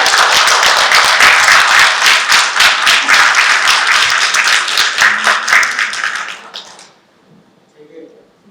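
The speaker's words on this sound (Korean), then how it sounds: "한원수 총장님께서 나오실 때 큰 박수로 맞이해 주시기 바랍니다." A crowd at a university student council launch ceremony gives loud, sustained applause to welcome the university president, clapping steadily for about six seconds before it fades into near silence.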